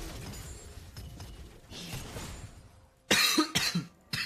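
A man coughs twice in quick succession near the end, loud and close, after a stretch of quiet background murmur.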